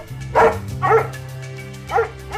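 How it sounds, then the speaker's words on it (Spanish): Three dogs barking furiously from behind a house, a few loud separate barks spaced apart with a steady hum underneath. "sus 3 perros ladraban furiosos desde la parte de atrás"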